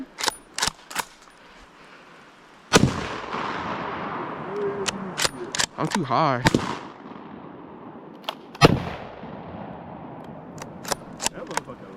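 Gunshots from a 12 gauge shotgun and a 9mm Glock 19 crack out in loud, sharp bursts: several quick shots early, then a heavy blast with a long echoing tail, followed by more scattered single reports, with people talking between shots.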